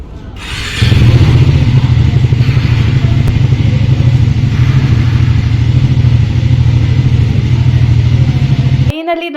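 A Triumph motorcycle engine runs steadily at close range, a loud continuous low rumble holding for about eight seconds before cutting off abruptly near the end.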